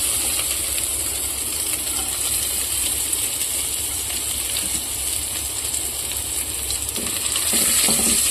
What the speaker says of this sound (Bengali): ওই তেলটার ওপরই আমি একটু রসুন কুচি দিয়ে দিলাম